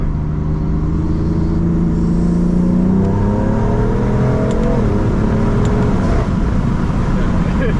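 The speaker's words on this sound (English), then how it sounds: "I don't know if you guys can really hear the way the intake sounds, but it's really loud" A modified single-turbo BMW F80 M3 engine revs and accelerates loudly, its intake roar climbing in pitch through the gears, with a person's voice faintly underneath.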